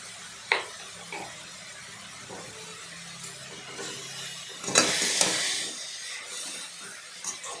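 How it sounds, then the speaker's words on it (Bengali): Papaya and shrimp being stirred in a hot pan with salt and turmeric, a steady low sizzle broken by scraping strokes of the spatula and a louder burst of hissing midway. "দিয়ে সেটাকে এদিক ওদিক করে ভালোভাবে নাড়াচাড়া করলাম"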